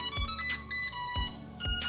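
A Blinory HK55 GPS drone powers up after its button is held, giving three rising electronic startup chime sequences, each opening with a low thump, loud and close with no talk.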